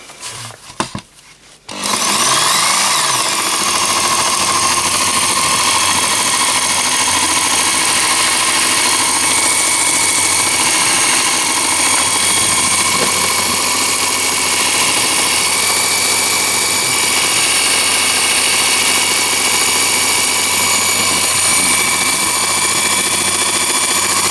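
An electric belt knife sharpener switches on and runs steadily, its motor and belt whirring with a constant hum and broadband hiss throughout, loud and close, with no talking.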